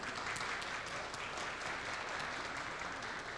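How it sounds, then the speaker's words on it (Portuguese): Audience applause at a national poetry declamation festival, a dense, even burst of clapping from a crowd that holds steady for a few seconds, with no talking. "Gostaria que recebesse com uma salva de palmas."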